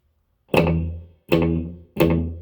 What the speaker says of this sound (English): now the most important effect, the echo.